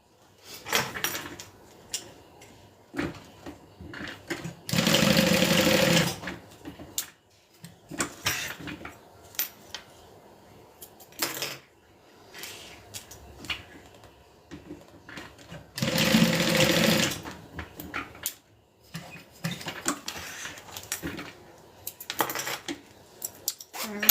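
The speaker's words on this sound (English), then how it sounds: "And I'm gonna sew that down." A sewing machine stitches a tote bag in two sustained loud runs of rapid needle chatter, separated by shorter bursts, clicks and handling noises of fabric and the machine, close by and without talk.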